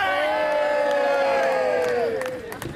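A crowd of voices lets out one loud, sustained shout of "England", the long cheer falling slightly in pitch before it breaks off into scattered whoops.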